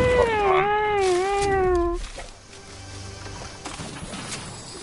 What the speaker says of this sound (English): Who's meowing at me?